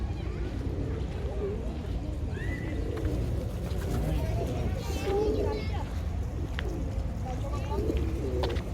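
Pigeons coo in a park in Seville, their soft calls faint and scattered beneath steady outdoor background noise and nearby voices talking.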